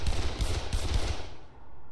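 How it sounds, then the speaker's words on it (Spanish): Rapid automatic gunfire in the zombie game Dead Island Definitive Edition: loud, dense bursts of shots running almost continuously, easing off slightly toward the end. "poco realista que me peguen tiros y no muera con un par de ellos"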